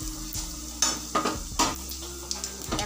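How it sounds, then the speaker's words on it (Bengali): Dry chillies and panch phoron fry in a pan, with soft sizzling under sharp clinks and scrapes of a utensil stirring against the metal several times. "প্রথমে শুকনো লঙ্কা, তারপরে দিব পাঁচফোড়ন।"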